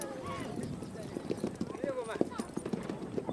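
Horse hooves clip-clopping and galloping in quick rhythm, with a horse whinnying and someone narrating over them.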